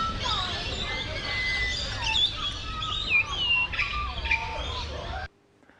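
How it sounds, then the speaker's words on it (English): Many small birds chirp and tweet together in a busy, continuous chorus of quick high calls and short squawks at moderate distance over a faint outdoor hiss, ending abruptly. "And the birds are wonderful."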